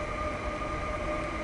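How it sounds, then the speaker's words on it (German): A DB Class 152/Eurosprinter electric locomotive passes at Aschaffenburg, a steady loud rumbling hum with a constant whine, continuous and close throughout. "Sehr schön, der Euro-Sprinter hier."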